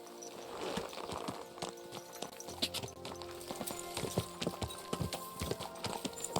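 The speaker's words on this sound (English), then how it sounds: "Oh, horsey." Horse hooves clip-clopping in Kingdom Come: Deliverance II, a quick uneven trot of sharp hoof strikes over game ambience, with a brief whinny-like sound and a shout nearby.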